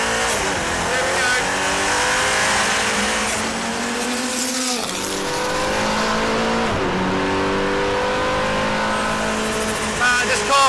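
An 1100hp Nissan R90CK Le Mans race car accelerates hard through several gears, its engine note rising and dropping with each shift, loud and close under a driver's intermittent talk.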